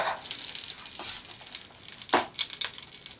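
Butter foaming in a pan after trout has been fried makes a soft, faint, continuous hiss and fizz, with a few brighter crackling bursts.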